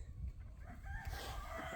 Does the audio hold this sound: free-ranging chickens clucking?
yes